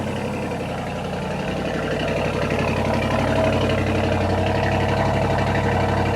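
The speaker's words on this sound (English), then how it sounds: "Now let's fire up the SQ7. Oh, snarling V8. Go listen to that idle from outside." A 2025 Audi SQ7 V8 engine idles steadily just after startup, a continuous low, throaty rumble with a constant loud level and no talk over it.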